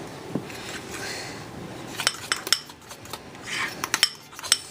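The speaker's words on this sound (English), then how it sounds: "Stir this to make it more cookie dough-like, especially for chocolate chip cookies" A utensil stirs chocolate chip cookie dough in a bowl, making a series of close, irregular metallic clinks and scrapes, clustered in quick bursts, with no talk.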